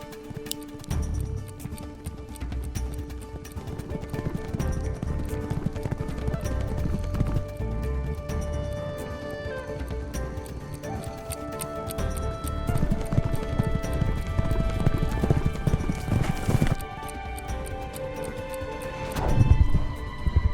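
A young horse trots on a large mile-and-a-half oval race track, its steady hoofbeats clopping close and loud within a dense, busy background that continues throughout.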